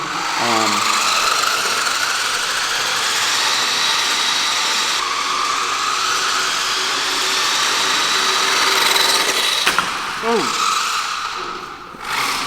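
A Maisto RB19 F1 1:10 scale remote-control car runs at full speed, producing a continuous, fairly loud electric motor whine and buzz that dips near the end, with a person talking over it.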